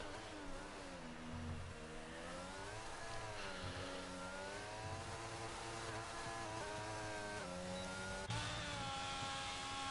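An Aston Martin race car in a racing video game at the Abu Dhabi circuit, its engine droning steadily and rising and falling in pitch through gear changes and corners, loud and continuous without talk.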